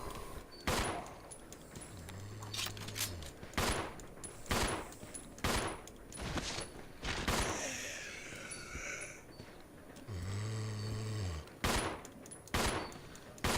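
Repeated gunshots from the video game Resident Evil 0 crack out in sharp, loud bursts at irregular intervals, a few spaced singly and others in quicker pairs, mixed with low humming game effects and a brief warbling cry, with no voices.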